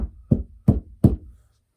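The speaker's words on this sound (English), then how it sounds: "come to the front door and bang on the front door" Three heavy, evenly spaced bangs on a wooden door, loud and close, each with a short boomy decay, then quiet.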